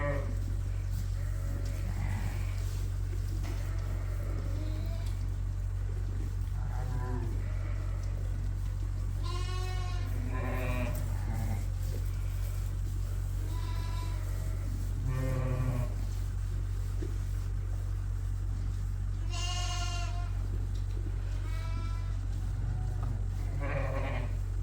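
Lambs in a barn with a Suffolk breeding flock bleat repeatedly in short wavering calls, some near and some farther off, over a constant low hum of fans or machinery.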